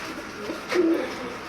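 A Sialkoti pigeon gives a single brief, low coo up close over a steady background hiss.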